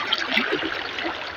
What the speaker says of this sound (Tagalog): Kalakas ng agos yan.